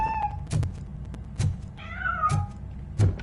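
A cat meows several times in the video game RoboCop: Rogue City, clear drawn-out calls alternating with soft thumping knocks, close and unaccompanied by talk.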